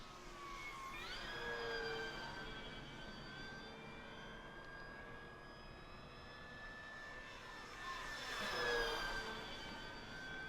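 An E-flite P-51 Mustang 1.2 RC model airplane, a World War II tail-dragger, flies overhead with a continuous whining engine tone that rises and falls twice as it passes close and then swoops back around.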